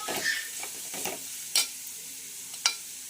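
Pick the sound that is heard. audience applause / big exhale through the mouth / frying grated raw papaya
frying grated raw papaya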